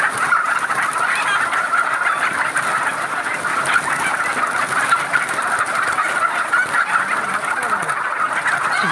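Hens on a poultry egg farm keep up a dense, continuous chorus of clucking and squawking, with many birds calling at once and no talk.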